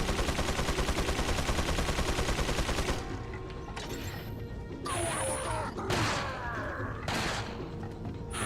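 Heavy magnum gunfire in Resident Evil 4 (2005): a dense, loud burst of shots and impacts at first, then several separate booming reports with crashing echoes at close range.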